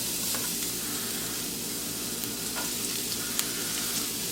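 Finely diced onions and garlic sweating in a hot pan, a dense continuous sizzling hiss with faint occasional crackles, close and even throughout, no one talking.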